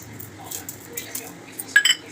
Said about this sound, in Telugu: మసాలా దినుసులు వేసుకుందాం కొద్దిగా దంచుకుందాం